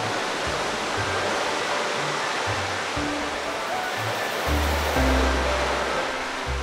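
Ocean waves crash against a rocky cliff in a continuous heavy wash of surf, with low thuds of water striking rock recurring through the roar and a stronger surge near the end.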